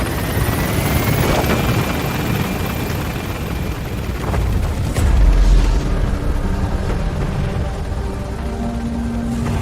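The Pequod helicopter in Metal Gear Solid V gains altitude from a landing zone, its loud rotor chop and engine roar steady throughout, with a deep low boom midway.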